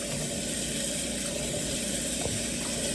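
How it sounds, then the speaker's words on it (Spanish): Water runs steadily and splashes as corn kernels are rinsed of lime, a continuous washing sound close by with no voices. "Vamos a enjuagar bien para que no le quede cal."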